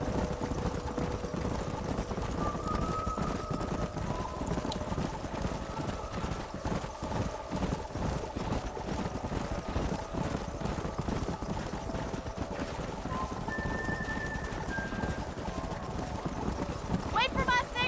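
Horse hooves clop steadily in the video game Red Dead Redemption, a brisk, continuous rhythm from several horses under a constant hum, with occasional whinnies and brief spoken exchanges mixed in.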